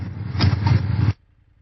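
A BMW F 800 GS motorcycle engine hums in a steady low drone while riding, loud and close for about a second before it cuts off abruptly into silence.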